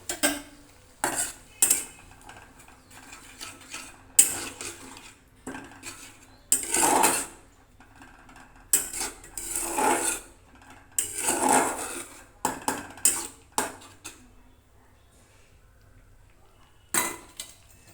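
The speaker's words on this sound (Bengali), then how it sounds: "যতক্ষণ না তেল ছাড়ে ততক্ষণ কষতে থাকবো।" Ginger, green chilli and coriander paste being stir-fried in a pan, with a spatula clinking and scraping against the metal in irregular bursts, fairly quiet and close, separated by short pauses.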